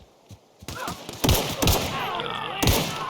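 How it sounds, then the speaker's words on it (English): Several gunshots ring out in the video game The Outer Worlds, sharp transient bursts spread across a few seconds with a noisy firefight bed between them. "None of those shots landed."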